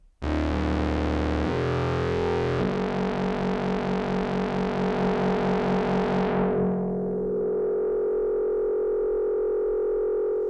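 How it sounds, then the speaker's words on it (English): A loud synthesizer tone from a Voltage Lab 2 steps through shifting pitches, swept by a whooshing flanger that sweeps down and fades into a sustained reverberant drone. "It's like a flange and a reverb, that, isn't it?"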